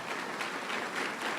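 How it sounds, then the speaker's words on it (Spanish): Church congregation applauding during a Spanish-language service, a steady dense wash of clapping close and full throughout, with no voices over it. "Dele un aplauso a Jesús en esta mañana"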